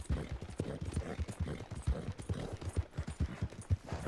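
Horse hooves clop in a steady, moderately paced rhythm as a rider travels a long road in Red Dead Redemption 2, with repeated low thuds over a faint outdoor background.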